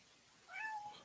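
A cat named Fonzie meows once, a short rising-and-falling cry of moderate loudness lasting under a second, close by in a quiet room.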